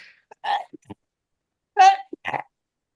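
Two short, sharp bursts a second apart, each a quick catch of breath and explosive release, like sneezes up close in a quiet room.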